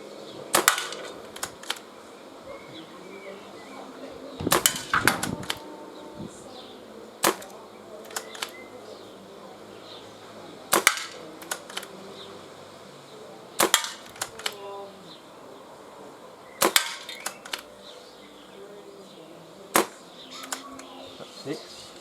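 Webley Nemesis air pistol fired outdoors at a can target, a handful of sharp, sparse cracks spaced several seconds apart over a quiet background with faint distant noise.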